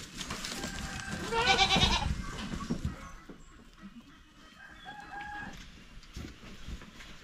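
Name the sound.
goats bleating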